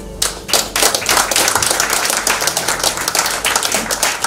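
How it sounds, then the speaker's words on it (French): An audience at a public ceremony in Kinshasa applauds, loud dense clapping that swells and continues steadily for several seconds. "ça mérite vraiment des applaudissements de tous ceux qui sont ici"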